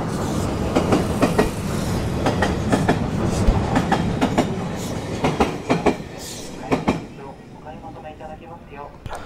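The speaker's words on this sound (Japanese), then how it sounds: "スピード自慢の特急列車ですが、徐行信号機に従って50キロでの減速走行しています。" A limited express train slowed to about 50 km/h by a caution signal rolls through a station, its wheels clicking steadily over rail joints amid a continuous rumble, fairly close, with faint voices under it.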